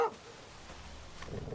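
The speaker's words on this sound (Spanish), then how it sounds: "El perro está alterado. Ladra, se viene algo." A dog in The Walking Dead video game gives a short bark near the start, followed by quieter low rumbling game ambience, with no talking.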